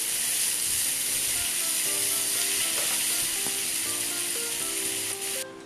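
Chopped tomato pieces frying with onions in a hot pan, a steady dense sizzle that fills the whole stretch, with faint clicks under it and a brief drop near the end.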